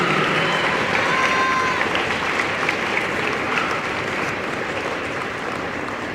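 An audience applauds a retired Marine Corps master gunnery sergeant, the NJROTC area manager, receiving an award at a Navy Junior ROTC pass-in-review ceremony, steady sustained clapping from many hands filling the whole stretch.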